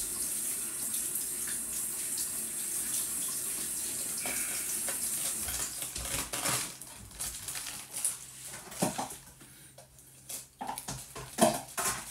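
Black tomatoes from a home garden get rinsed under a running kitchen tap: a steady water stream at first, then irregular splashing and patter as the tomatoes are handled, close and without talk.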